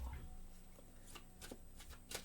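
Quiet card shuffling, with a few soft riffling bursts and light flicks of cards against a low background hum.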